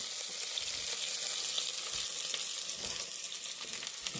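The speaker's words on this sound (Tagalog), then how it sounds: "Piprituhin muna ito ng kaunti." Ingredients fry in a pan before the meat goes in, giving a constant close sizzling hiss with small pops and occasional stirring, and no one speaking.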